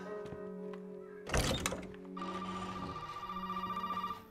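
An old telephone rings in Resident Evil 7 after a heavy thunk, its bell trilling in a fast, repeating pattern over a quiet ambient game hum.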